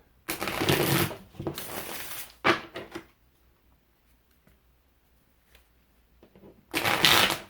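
Several bursts of tarot cards being shuffled, brisk riffling in short runs separated by quiet pauses, with a final burst at the end.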